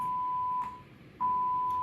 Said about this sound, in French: Il va également réaliser un alarme test pour vérifier les alarmes de l'avion.